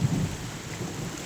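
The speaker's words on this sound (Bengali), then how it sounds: "2025 সালের প্রথম বৃষ্টি আজকে বন্ধুরা দেখুন" Rain falling in Kolkata with a low rumble of thunder, a dense close wash of rain under a brief deep boom that fades within a second.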